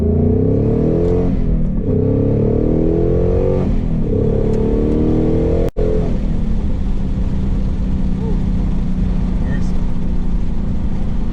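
Race Red Ford Mustang Mach 1 with a resonator delete and MBRP X-pipe exhaust pulling hard, its loud exhaust note rising in pitch through two revving surges, then cutting out briefly and settling into a lower steady rumble.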